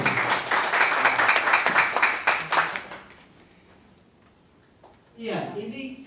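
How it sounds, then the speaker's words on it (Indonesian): Audience applause at a press ethics and law seminar swells loud and full for a few seconds, then fades to near quiet before a voice starts talking. "Tepuk tangan dulu"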